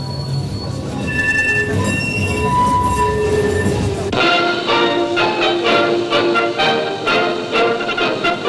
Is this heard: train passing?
yes